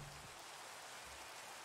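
Steady rain falls in the video game Minecraft, a dense, even hiss with no breaks and no voices over it.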